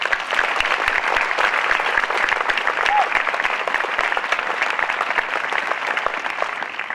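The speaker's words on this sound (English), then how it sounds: "let's give a round of applause to the people who have helped us get to today" Audience applause fills a grand opening for a school's student center, a dense, steady clapping from a large crowd that stays loud and even for the whole stretch with no voices standing out.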